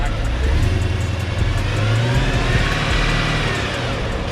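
Tuned Mercedes W205 C63S AMG with headers idling close by, a loud, steady, smooth low rumble throughout with no revving.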